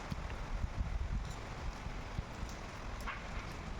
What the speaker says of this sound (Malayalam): നമ്മുടെ മഴ തകർത്ത് പെയ്യാണ്